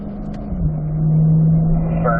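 Car engine droning during track practice on a race circuit, a loud sustained in-car hum that shifts pitch as the throttle rolls on, with speech over it.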